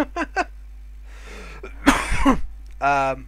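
A single throaty cough sounds close by, between short bursts of nearby talking.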